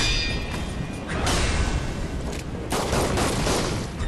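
Pistol and other gunfire in the Sekiro video game: loud, dense bursts of shots and impacts packed together, with sharp swells around the middle and near the end, no talk.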